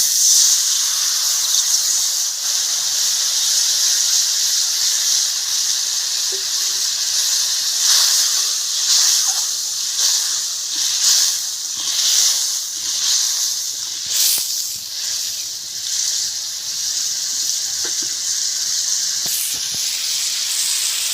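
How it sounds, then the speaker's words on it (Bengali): Water hits a hot pan during an egg dish cooked with onions, producing a loud, continuous hissing sizzle that holds steady for about twenty seconds, with faint spatters and no voices. "এবারে জল দিয়ে দেবো"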